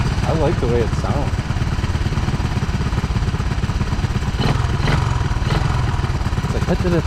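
Honda 185S three-wheeler ATV engine ticking over at idle, a loud, even, rapid thumping rhythm close by, with someone speaking over it at times.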